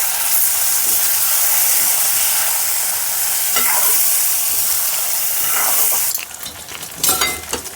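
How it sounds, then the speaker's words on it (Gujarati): Cumin khichdi and stuffed green chillies sizzle loudly in a pan while being stirred, a steady frying hiss broken near the end by scraping and clattering of the spoon. "આપણી જીરાવાળી ખીચડી કરી અને મરચાં કર્યા ભરેલા હલાવી નાખીશું"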